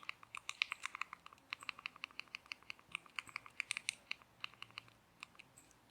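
Keys clatter in a quick, uneven burst of close, crisp taps as a word is typed into the search field on an Amazon Fire Stick. The taps slow toward the end, and no one speaks.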